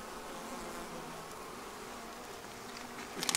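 Honey bees hum softly and continuously around a queen cage set among the frames of a hive, a faint, close buzzing with no voices.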